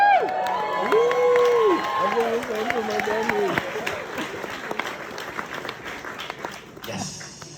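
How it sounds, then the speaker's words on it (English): A comedy-show crowd in Moncton bursts into loud, close applause with whoops and cheering voices at first, then the clapping thins and trails off toward the end. "hold for aggressive applause, which you did."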